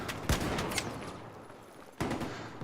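Gunfire from Battlefield 4 rings out in a few sharp, loud cracks, a quick cluster early and another burst near the end, with a faint tail between and no talking.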